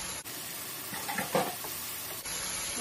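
Shrimp hit a hot pan for garlic shrimp pasta and sizzle steadily, a soft broadband frying hiss with a brief stir in the middle, fairly quiet and close, no voices.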